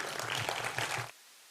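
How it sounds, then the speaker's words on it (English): Audience applause for the first five pitchers at a digital and green innovation accelerator pitch event: dense, steady clapping for about a second that cuts off abruptly into near silence. "a round of applause for our first 5 pitchers"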